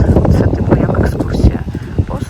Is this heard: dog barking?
no